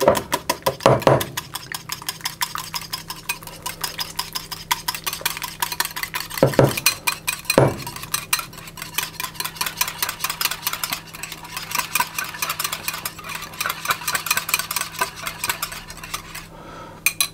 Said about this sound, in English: And I'm just going to whisk those and get those combined.